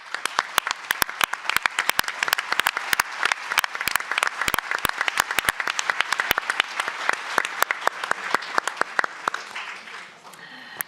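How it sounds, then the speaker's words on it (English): An audience at a conference on preventing sexual violence in conflict breaks into sustained applause, dense overlapping claps that thin out and fade near the end. "I would like us actually to all give an applause."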